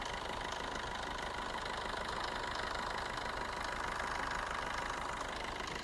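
A Swift ZDI diesel car engine idles steadily and evenly, a continuous close rumble with a slight knocking texture and no voices.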